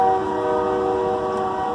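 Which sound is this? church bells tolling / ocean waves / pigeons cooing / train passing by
train passing by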